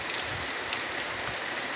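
Heavy rain pours down steadily in the village of Nicó near Itabaiana, Sergipe, a dense, even hiss filling the brief moment with no voices.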